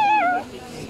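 A single short cat meow, close and fairly loud, falling in pitch and fading out within a second.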